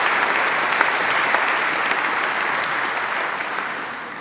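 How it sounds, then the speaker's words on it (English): An audience at an insurance-market innovation event gives the panel a round of applause, dense steady clapping from a full room, loud and continuous with no voices. "let's have a round of applause for our panel before we go."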